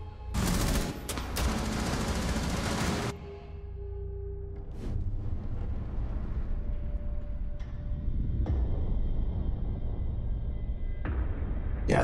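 Rapid, loud gunfire bursts from a Rainbow Six college esports match between Marietta College and Baylor University, with heavy sustained volleys early on followed by scattered shots and in-game sound effects.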